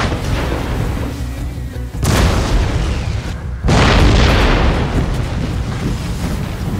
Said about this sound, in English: the head of the Zulu formation came within range of the firing batteries, who began firing their salvos.